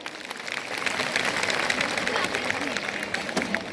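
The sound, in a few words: audience giving loud applause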